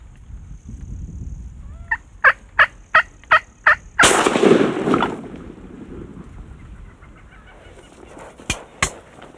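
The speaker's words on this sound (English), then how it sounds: "wasn't it great to hear those gobblers gobbling like that" Osceola wild turkey gobbling in spring: a run of five sharp, evenly spaced gobbles, then a louder rough burst, followed by a quieter stretch and two more quick calls, fairly close and clear.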